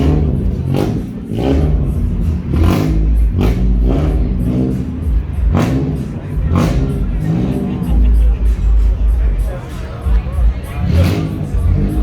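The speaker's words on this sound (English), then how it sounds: "It's an international truck." Loud, low engine roar of an International truck at an outdoor car show, swelling in repeated revving surges over a steady rumble, with crowd chatter in the background.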